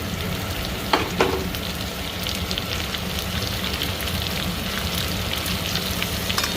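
Sweet pumpkin pieces dropped into hot oil after ginger-garlic paste, a dense steady sizzle and crackle with a couple of sharp clatters near the start, no talking.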